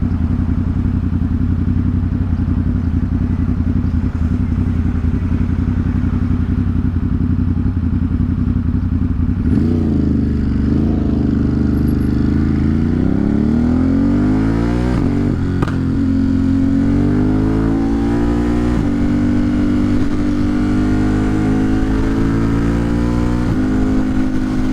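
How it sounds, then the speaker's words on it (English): A car engine drones loud and close in heavy morning traffic on the BQE in New York, with steady low rumble, then rising and falling revs as the vehicle speeds up and slows. "Why is the traffic so heavy this fine morning?"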